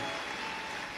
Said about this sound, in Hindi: एक बार जोरदार ताली बजाकर इनके लिए साधुवाद है।